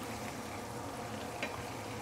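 Prawns for sambal prawns fry in a hot pan, a steady close crackling sizzle that carries on evenly throughout with no voices.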